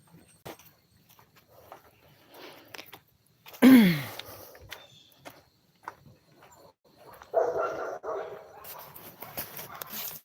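Puppies yelping and barking outdoors, mostly faint and scattered, with one loud rising yelp near the middle and a burst of yips later, amid light background noise.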